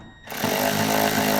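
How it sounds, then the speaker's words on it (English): A bolt is tightened with a 10mm socket while installing an Alpine amplifier and powered subwoofer kit in a Toyota Tundra. After a brief quiet start, a loud, steady buzzing tool run continues to the end. "then we will tighten it up with our 10mm socket"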